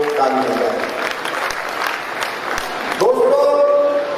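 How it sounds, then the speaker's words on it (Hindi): A large audience at a national convention of Buddhist viharas in Pune claps steadily in a sustained wash of applause, with crowd murmur mixed in and a tonal sound rising near the end. "एक बार पुणे के लिए आप लोग ताली बजाएं।"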